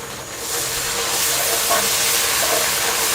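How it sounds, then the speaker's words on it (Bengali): Ginger and garlic paste fries with browned onions in a pan, producing a loud, dense, close hiss of sizzling that holds steady throughout, with no voices. "আদা এবং রসুন বাটাটাকে একটু ভেজে নিতে হবে, যাতে করে এর থেকে কাঁচা গন্ধটা চলে যায়"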